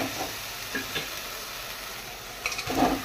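Mung dal with cumin paste sautés in a pan with a soft, low frying sizzle, punctuated by a few light scrapes and clinks from stirring, fairly quiet throughout with no voices.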